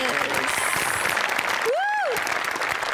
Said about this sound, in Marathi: आर्ट डिपार्टमेंटसाठी आपण सगळे जोरदार टाळ्या वाजवूया.